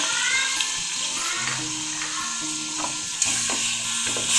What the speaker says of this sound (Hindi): अब हम इसमें गोश्त भून लेंगे ऑयल में।